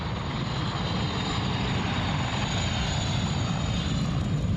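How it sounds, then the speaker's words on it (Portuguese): Helicopters fly overhead supporting aerial firefighting against a large wildfire, giving a steady, loud rotor and engine roar that continues throughout, with no talking. "Helicópteros grandes, helicópteros pequenos, bombeiros."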